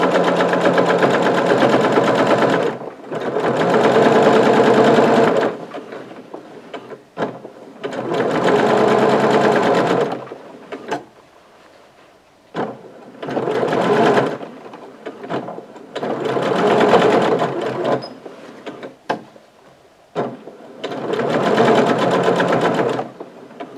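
A sewing machine topstitches an Easter tote bag, running in about five long steady bursts with short pauses between them for repositioning the fabric, loud and close with no talk.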